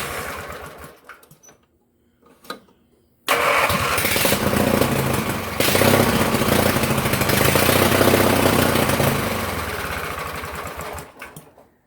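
A small engine, low on gas and running on choke, sputters through a couple of brief tries, then catches and runs loud and close for about eight seconds before dying away.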